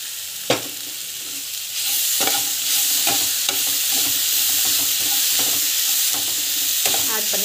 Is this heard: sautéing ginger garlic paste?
yes